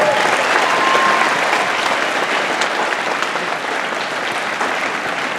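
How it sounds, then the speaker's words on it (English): Applause from a crowd at the opening ceremonies of a national judo championship, a dense, steady patter of many hands clapping for the whole stretch without letting up. "Let's give him a big round of applause"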